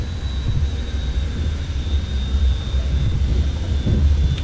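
Boeing 737-500 jet engines spooling up to takeoff thrust in a flight simulator game, a steady loud roar with heavy low rumble and a faint high whine, continuous and building slightly throughout.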